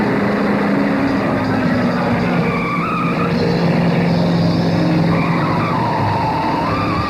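A car drives fast with its tires skidding: a loud, continuous roar of engine and road noise runs throughout, with wavering, whining squeals rising and falling over it.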